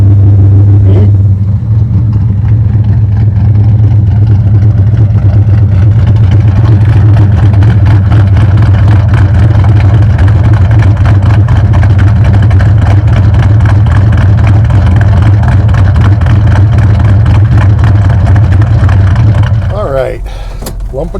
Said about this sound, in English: Lumpity lump. The cam has a nice bump.